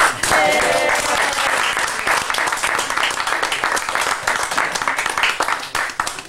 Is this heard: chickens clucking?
no